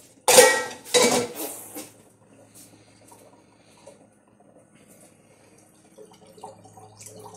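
Dishes being washed in a sink at home, two sharp clattering clanks of pots and cutlery up front, then quieter scattered clinks, taps and trickling water, close and with no speech.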